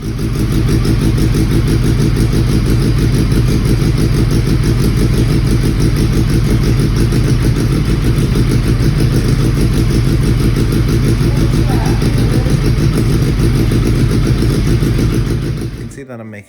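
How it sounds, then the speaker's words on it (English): A Volkswagen Beetle fitted with a Hayabusa engine runs for the first time. The engine drones loud and steady at a constant pitch close by for about sixteen seconds, then cuts off abruptly. "the next clip is the first time that we had the car running"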